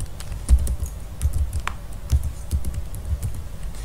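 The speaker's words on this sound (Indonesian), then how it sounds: "Untuk membuat Java di Notepad, maka ketik Notepad" Someone types steadily on a computer keyboard while entering a command to open Notepad, with close, rapid keystrokes clicking in an even stream.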